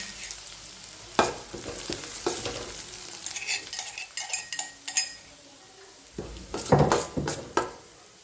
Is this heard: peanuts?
yes